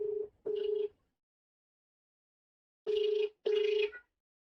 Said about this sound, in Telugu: కమిషనర్ గారు కాల్ చేస్తున్నా నేను.